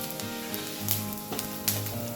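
Grated coconut roasting slowly in a pan over low heat for a potato curry, giving a soft, steady sizzle with a few faint scraping stirs, close and continuous with no talk.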